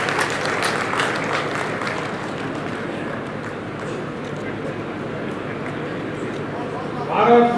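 A standing crowd at a Bhiwani celebration of Thakur Bir Singh's 101st birth anniversary gives loud, steady applause welcoming Arun Singh, a dense continuous clapping wash that holds for several seconds before a voice rises at the end.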